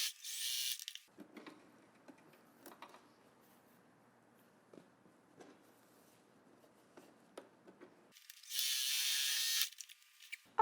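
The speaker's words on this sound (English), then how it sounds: "we have now sewn up some of this dress to make it more girl-sized" A domestic sewing machine stitches a tank top into a girl's dress in two loud, steady whirring bursts at the start and end, with quiet handling and fabric rustle between them.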